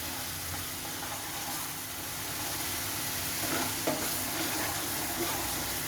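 Chicken Changezi masala with Kashmiri red chili fries in a pan, a dense continuous sizzle with occasional stirring scrapes, close and fairly loud.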